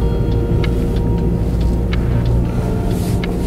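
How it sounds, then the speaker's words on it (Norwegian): A car engine idles and runs steadily during a test drive, a loud continuous low rumble with a few faint clicks and ticks on top, no talking. "Da skal vi høre på bilen."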